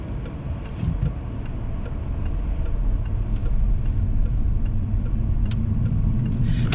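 Car driving on the motorway gives a steady low road and engine rumble from inside the cabin, building slightly in loudness, with small ticks and clicks scattered through and no talking.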